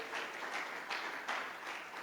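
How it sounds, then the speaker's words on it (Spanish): A church congregation claps for the King during a Spanish-language worship service, a steady crowd of many hands with rising bursts of louder clapping, no voices over it. "Dale palmas al Rey"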